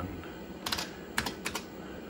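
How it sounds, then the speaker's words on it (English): A handful of crisp IBM computer keyboard keystrokes clack in quick, uneven bursts, close up, with quiet background hum in between. "listen to the nice keyboard, Don't underestimate a true IBM keyboard."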